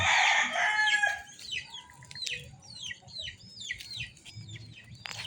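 A Polespark Gray gamefowl rooster crows loudly at the start, followed by a run of repeated clucks and chatter from nearby birds, close and clear with no talk.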